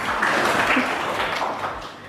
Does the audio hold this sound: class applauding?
yes